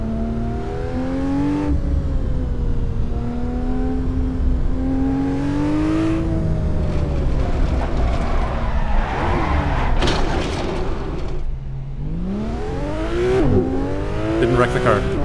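A car driven in the Assetto Corsa racing game on the Naruto Skyline freeroam map, its engine droning steadily and rising and falling in pitch as it accelerates, shifts and slows, loud and continuous throughout.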